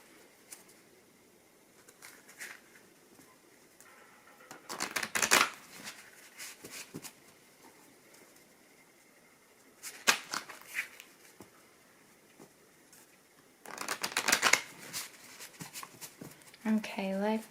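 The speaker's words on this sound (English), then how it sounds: "Try to shuffle these up good." Tarot cards being shuffled by hand in several separate bursts of quick riffling and flicking, moderately close, with quieter pauses between them and soft rustling throughout.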